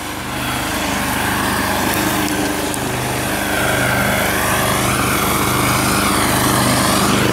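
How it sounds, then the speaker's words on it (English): An Ariens diesel snowblower runs steadily at close range, its engine giving a loud, constant drone that climbs slightly as the throttle opens, with no talking. "I'll show you the throttle and then we'll take a pass"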